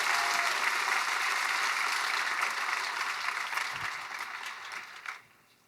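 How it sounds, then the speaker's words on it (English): A Comic Con panel audience applauds in a dense, steady wash of clapping that holds strong for about five seconds, then fades and stops abruptly near the end. "Please, a round of applause for Dark Horse for their amazing work."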